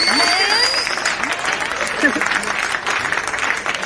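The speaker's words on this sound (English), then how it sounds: "Gotta give her a big round of applause." Studio applause rises for a guest during a Trap House Rocks radio interview, with dense continuous clapping and some whoops, steady and fairly close throughout.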